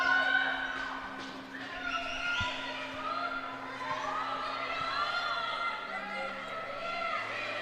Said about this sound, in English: Here the Oswego State bench cheering for their team.